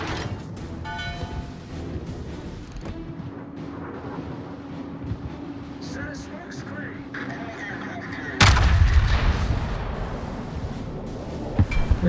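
Naval gunfire in World of Warships: heavy muffled booms and rumbling battle sounds run throughout, with a loud, close salvo crashing in near the end and engine-like drone and faint talk underneath.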